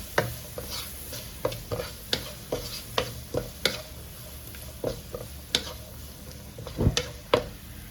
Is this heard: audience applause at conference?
no